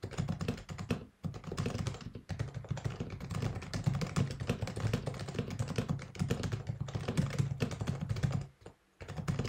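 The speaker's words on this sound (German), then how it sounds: "die HHKB Hybrid Type S hervorheben als die leiseste Tastatur, die ich bisher probieren konnte" Steady typing on an HHKB Hybrid Type S keyboard, a quiet, muffled run of close keystrokes with brief pauses, no voices.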